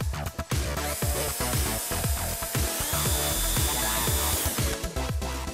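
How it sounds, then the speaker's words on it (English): A power drill whirs steadily with rhythmic surges and knocks as it bores holes for spacers on an RC car gimbal mount, loud and close, no voices. "then we will drill the holes and throw the spacers on"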